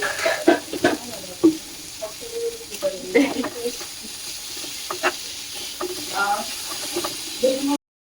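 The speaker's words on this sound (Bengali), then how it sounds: "এইদিকে যে ফুলকপিটা নাড়াচাড়া করছি, একটু ভাজা হয়ে গেলে" A spoon scrapes and stirs cauliflower frying in a pan over a soft sizzle, with scattered clinks and some voices in the background.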